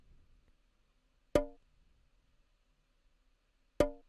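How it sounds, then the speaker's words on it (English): Tom-like percussion sample from an Afro house beat built in FL Studio, two sharp isolated hits about two and a half seconds apart, each decaying quickly into near silence. "I got this perk which sounds also like a tom"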